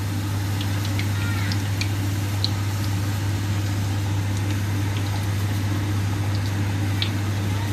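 Chicken pieces for nuggets frying in oil, a steady dense sizzle with scattered small pops and crackles throughout, over a constant low hum.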